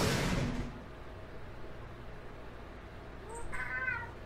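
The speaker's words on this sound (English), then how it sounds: "Meow." Cat meowing in the video game Zero Escape, one short meow near the end after a brief burst of noise, heard fairly close over a quiet background.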